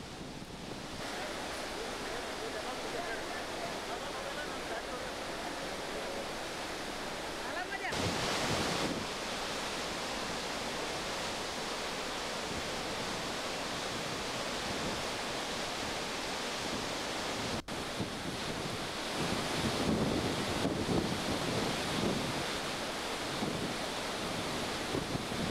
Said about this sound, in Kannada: ಜಲಾಶಯದಿಂದ ನೀರು ಹರಿಯುವ ದೃಶ್ಯ ನೋಡಲು ಪ್ರವಾಸಿಗರು ಬರುತ್ತಿದ್ದಾರೆ.